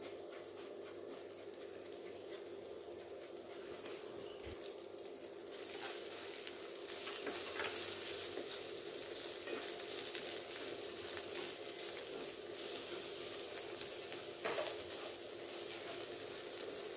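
Hot oil sizzles steadily in a pan on the stove, a soft, continuous frying hiss with no voices.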